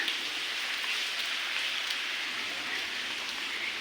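A sudden rain shower falls as a steady, dense hiss of drops on surfaces, continuous and even throughout, with no voices.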